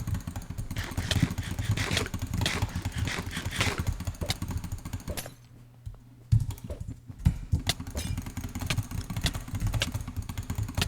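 Computer keyboard keys and mouse buttons clatter rapidly and continuously during a pot PvP game, dense close clicking with a brief quieter gap midway, loud and without talk.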